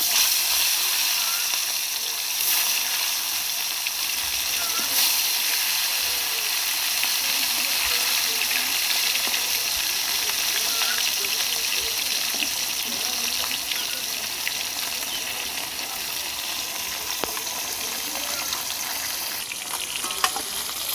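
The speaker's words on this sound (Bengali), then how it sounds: "কড়াইয়ে তেল গরম হয়ে গেছে, এবার তেলে আমরা মাছগুলো ভেজে নেব।" Fish frying in hot oil in a wok, a loud, constant crackling sizzle that holds steady from start to finish with only small flickers of spatter.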